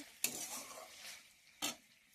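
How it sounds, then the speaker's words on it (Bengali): Chicken pieces fry in a pan with a faint, low sizzle, broken by two sharp scrapes of a spoon stirring the meat. "এখানে মাংস ভাজা করছি"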